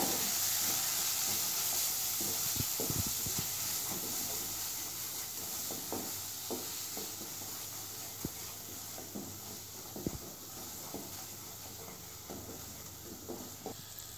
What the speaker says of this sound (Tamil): எல்லாத்தையும் சேர்த்து நல்லா வதக்கிக்கோங்க.